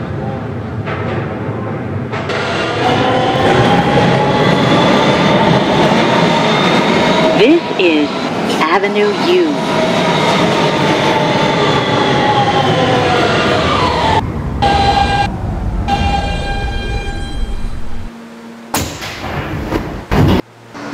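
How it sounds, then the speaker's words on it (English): An R160B Siemens subway train runs as a Manhattan-bound N train on the BMT Broadway Line in a Roblox game, with a loud, steady rolling rumble, occasional thuds, and an automated announcement voice over it. "This is a Manhattan-bound N train"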